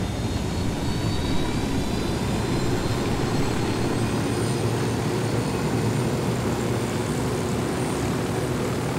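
A helicopter in the video game Ghost Recon Wildlands drones with a constant, steady rotor and engine roar, loud and unbroken, with no talk over it.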